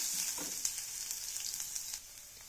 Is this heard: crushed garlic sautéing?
yes